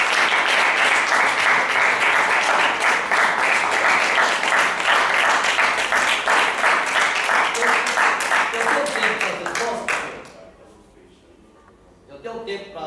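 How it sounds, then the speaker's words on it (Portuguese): Applause from a lecture audience at a talk on dating, a dense loud sustained clapping that fades out after about ten seconds, followed by quieter sounds. "Quem compreendeu aí, aplaude o Senhor Jesus."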